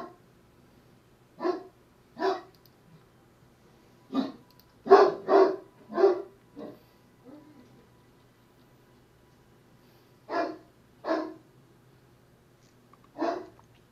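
A dog barks in irregular clusters, some single and some in quick runs of three or four, fairly close against a quiet background.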